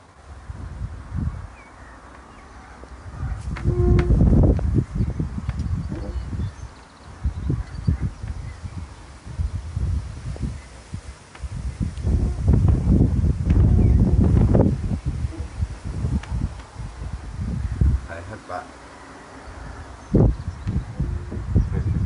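Strong wind gusts outdoors near a horse herd, buffeting the microphone in steady roaring surges that swell and ease, loudest around the middle, with faint rustling underneath.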